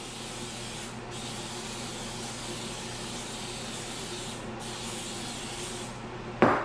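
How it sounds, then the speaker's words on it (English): Cooking spray hisses steadily from a can onto an Italian baked steak, a soft continuous spray at moderate distance that ends with a sharp knock. "I'm going to give it a nice coat of cooking spray,"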